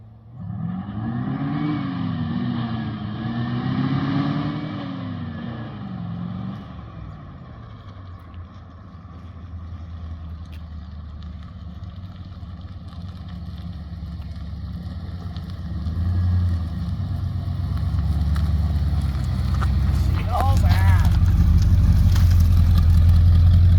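A 1978 Dodge D300 truck, parked for over 40 years, runs with a loud rumbling engine that revs early, then settles into a steady idle and grows heavier and louder toward the end.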